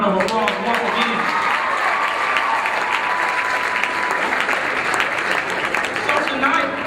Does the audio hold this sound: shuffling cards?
no